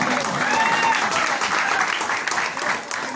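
An audience at an annual village celebration and Paithani game show claps loudly and steadily, a dense sustained round of applause that slowly thins toward the end, with faint voices under it.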